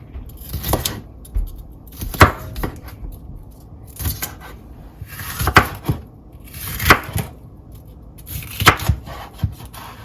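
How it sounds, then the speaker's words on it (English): A knife chops a sweet pepper firmly on a cutting board in short bursts of quick strokes separated by brief pauses, close and clear with no talking. "we're just going to chop this up so that it can fit into the food processor"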